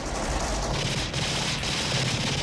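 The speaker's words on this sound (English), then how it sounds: "She's shooting. She's got a shotgun." Rapid, dense gunfire fills a movie battle scene featuring a woman firing a shotgun, the 1989 Return of Swamp Thing action sequence; loud, continuous bursts with no pauses, dominating the mix.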